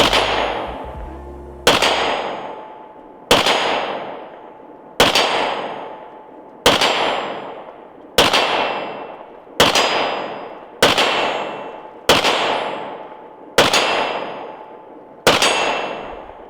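PSA Rock 5.7 pistol shots ringing off a steel target at a range: about ten sharp cracks, each with a metallic clang, spaced evenly roughly every one and a half seconds, loud and close, with no talk between them.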